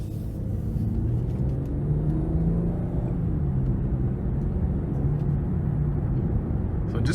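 A 2019 Ford Edge ST with a 2.7 liter V6 and eight-speed transmission accelerates on the road, its engine a steady deep rumble with rising whine, heard from inside the cabin, loud and continuous.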